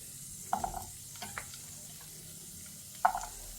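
Small shallots frying in oil in a kadai, a soft low sizzle with a few clicks and scrapes of stirring, close but quiet, no voices.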